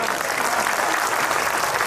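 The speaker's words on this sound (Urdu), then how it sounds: "تو سنو زوردار تالیاں بجانا" Loud, steady applause from a school audience at a Republic Day celebration, broad dense clapping filling the whole moment without a break.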